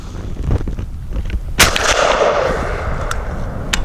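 A Citadel RS-S1 fires a single shot: one sharp, loud blast with a lingering rumbling echo, set against a low background rumble. Faint clicks and handling noises come before and after.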